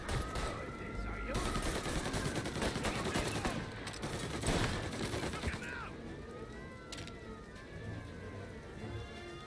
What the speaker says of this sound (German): Gunfire and an explosion reported at the Corleone Hotel.